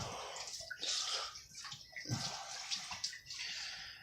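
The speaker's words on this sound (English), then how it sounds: "Dump the other bottle that's been sitting in hot water, or sitting with hot water in it." Hot water glugs and splashes out of a bottle being dumped into a sink, a continuous uneven pour with bubbling gurgles, close and fairly loud.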